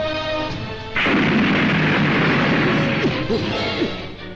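A vase blasted apart by a remote-controlled bomb in a Bangla action film, a sudden loud explosive crash followed by a sustained roaring burst with scattered debris clatter.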